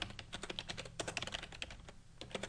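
Rapid, uneven keystrokes on a computer keyboard while a Unix command line is entered, with close, crisp clicks in quick bursts and short pauses between them.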